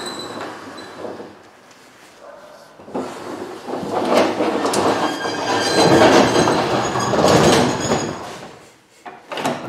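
A Slim Glide ET30 roller door operator drives a roller door in manual mode, a continuous mechanical rattle and rumble with metallic squeals that builds in loudness, holds, then drops away near the end.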